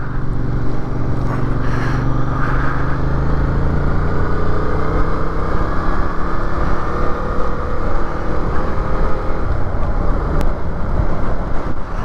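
A 2023 Yamaha MT-07 motorcycle rides on an open road, its engine humming steadily under heavy wind buffeting, loud and continuous throughout.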